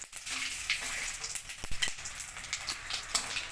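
Whole garam masala spices, cumin and bay leaf sizzling in hot oil for meat, a close, continuous crackling fry with scattered sharp pops.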